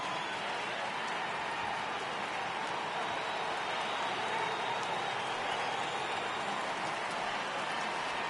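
A baseball video game crowd roars in a stadium as the count runs full at 3-2, a dense, steady wash of cheering held at an even level throughout.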